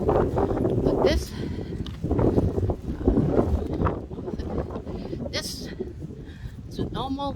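Gusting wind buffets the microphone on a cold, rainy January night walk in Denmark, a steady broadband rush rising and falling in strength throughout, with faint voices and a brief chirp-like sound near the end.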